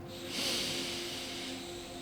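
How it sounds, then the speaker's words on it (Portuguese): Deep, slow breath drawn in and let out during a guided meditation, a soft airy rush swelling near the start and fading, close and alone with no talk. "Inspiramos. Expiramos com o som."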